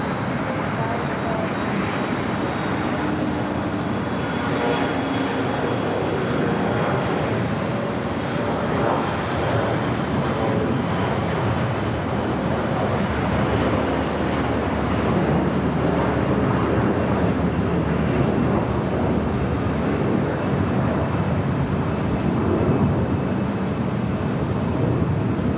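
An airliner taxis along taxiway Bravo at LAX toward runway 25 right, giving a steady, continuous engine roar mixed with broadband wind noise that holds throughout without letting up.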